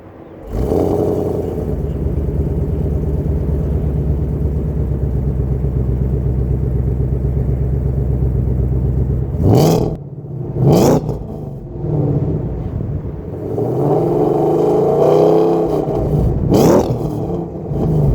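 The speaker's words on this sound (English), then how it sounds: "A long tube car with a free flowing exhaust, stock suitcase, stock mufflers." A 2015 Ford Mustang GT with long tube headers, a free-flowing exhaust and stock mufflers idles in a loud steady rumble, then revs sharply twice and once more after a longer climb, close up with no talk.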